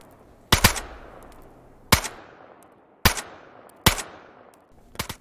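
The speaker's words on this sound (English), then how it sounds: "Now with the AK fully equipped and suppressed, it is now a lethal, accurate," Suppressed AK-74 rifle fired in the DayZ video game: five sharp, loud shots spaced about a second apart, each with a short decaying tail, no voices.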